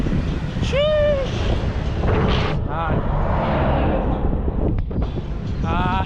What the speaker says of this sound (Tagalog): Napakalamig ng simoy ng hangin.